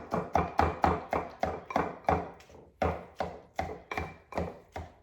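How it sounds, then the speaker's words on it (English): A mix and chop tool strikes repeatedly through mushrooms and ground beef in a pan for beef stroganoff, a close series of about a dozen sharp, hollow chopping thuds in an uneven rhythm with brief pauses. "Now I'm just gonna use my mix and chop to kind of chop everything up"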